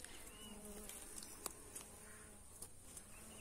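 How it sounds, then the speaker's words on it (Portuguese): Bees buzz faintly around a bait box used to catch a swarm, on a cold day, with a steady low hum of wings and a few small taps and ticks over quiet outdoor background. "Aí, vira a abelha entrando."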